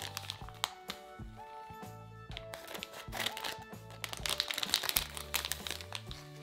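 Crinkly plastic wrapper of a Trolls blind bag being handled and torn open, close and fairly loud, with continuous rustling and crackling plus sharp crunches and snaps; faint music plays underneath.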